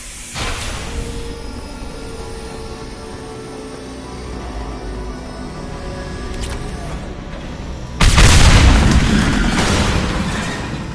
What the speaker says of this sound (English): It'll take heavier weapons than that to blow those tanks.